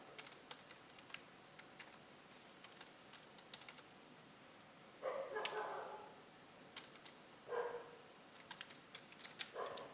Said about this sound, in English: let me just type something